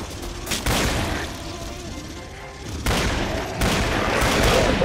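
Loud gunfire in the Killing Floor shooter game comes in bursts of rapid automatic shots, a heavy salvo at the start and another near the end, with booming reports echoing between them.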